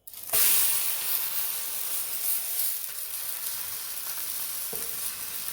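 Steady, close sizzling of cabbage thalipeeth flatbread frying on an oiled griddle, a continuous crackling hiss with no talking.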